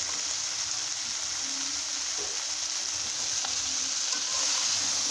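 Hilsa fish heads and taro stolons frying together in oil in a pan, giving a steady, even sizzle with faint stirring, close and moderate in level, with no speech.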